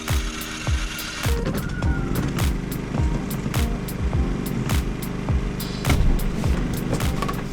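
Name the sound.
portable generator starting up and running at a campsite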